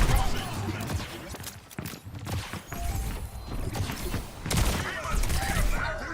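In the Overwatch video game, a soldier character fires a rapid, dense volley of gunfire mixed with other game effects, heard under a talking voice.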